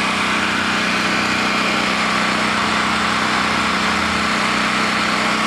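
A portable generator engine bolted down and running steadily, a loud, even, buzzing drone with a constant hum and no change in pitch, close by and heard alone.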